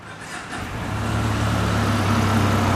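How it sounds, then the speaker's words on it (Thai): A 2020 Benelli C502 motorcycle on its stock exhaust runs at a steady, fairly quiet idle, its low engine rumble swelling slightly in the first second before holding even, close by with no talking. "นี่นะครับเสียงท่อเดิมก็จะเงียบๆนะครับประมาณนี้ครับ"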